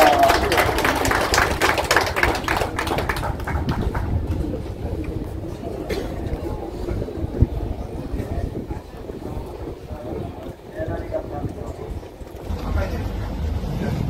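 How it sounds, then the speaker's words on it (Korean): At a Korean poetry recitation gathering, an audience applauds as a society chairperson is invited to the front, with steady dense clapping that fades after a few seconds into quieter room noise and scattered handling sounds. "뜨거운 박수 부탁드리겠습니다."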